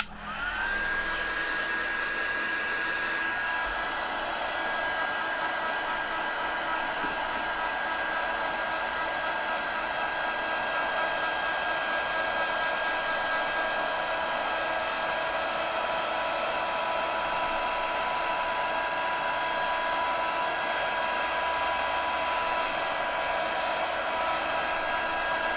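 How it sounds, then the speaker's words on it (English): A heat tool blows hot air steadily and close up to dry an inked handmade card, a loud, continuous whooshing drone with a faint whine that runs unbroken for the whole stretch with no talking. "So heat tool, and away we go."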